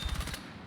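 A short burst of M4 rifle fire in Battlefield 6, five rapid close shots in quick succession followed by a fading echo, heard alone.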